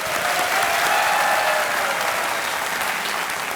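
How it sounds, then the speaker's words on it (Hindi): A studio audience at the Indian quiz show Kaun Banega Crorepati claps in loud, dense, continuous applause that fades slightly toward the end. "ताली बजते रहे इनके लिए।"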